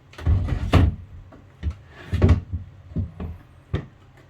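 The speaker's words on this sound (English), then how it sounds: "So we close these two, and we've got a sliding hatch." Several wooden thuds and knocks from the two entrance doors of a 55 ft sailboat being shut, followed by a sliding hatch's scrape and another solid clunk, close and fairly loud.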